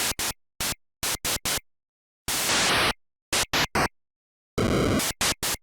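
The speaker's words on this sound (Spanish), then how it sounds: "El número 4 correspondía al canal de ruido blanco, el cual tenía dos modos distintos con hasta 16 sonidos cada uno" Bursts of NES-style 8-bit white-noise channel sound from a chiptune demo: short hissy static hits in irregular rhythm, alternating with two longer noise bursts, one hollow and one metallic, separated by silences.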